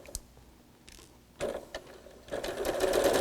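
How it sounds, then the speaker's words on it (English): Sewing machine stitching quilt squares down one side of a block, starting in short bursts and then running into a steady, building mechanical whir, close up with no talk. "you're going to stitch right down the one side"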